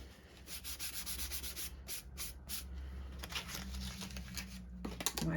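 An embossing buddy is rubbed back and forth over a scrap of black cardstock, producing soft close-up scratchy swishes in quick repeated strokes with brief pauses.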